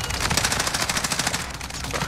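Rapid bursts of automatic gunfire from Call of Duty Warzone (Modern Warfare x Black Ops Cold War), loud, close and nearly continuous, with the rattling shots overlapping throughout.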